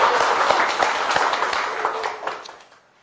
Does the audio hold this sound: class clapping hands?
yes